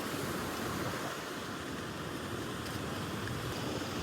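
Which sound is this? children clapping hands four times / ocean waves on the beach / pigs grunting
ocean waves on the beach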